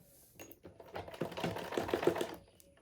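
Sewing machine stitching fabric for a bodice block, a quick rattling run of needle strokes that builds and then slows to a stop, moderately close with no talk.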